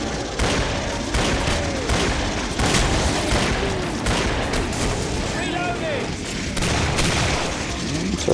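Gunfire in the zombie shooter game Killing Floor comes as dense bursts of rapid shots and booms over a continuous battle din, with someone talking intermittently over the action.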